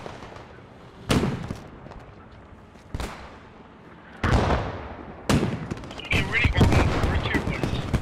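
Gunfire in the Post Scriptum war game, with several loud, sharp single shots spaced seconds apart, then a denser burst of firing and rumbling at the end, heard over quieter background noise.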